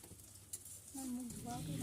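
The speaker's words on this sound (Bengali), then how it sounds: "এইভাবে একে একে আমি সবগুলো পরোটা ভেজে নেব।" Egg paratha sizzles and fries in a pan, a soft crackling hiss that grows louder partway through, with a faint voice talking over it.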